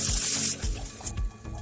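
Water splashes from a tap or vessel into a cooking pan of chicken leg masala with onion and turmeric, a loud gush at first and then a few softer pours and drips.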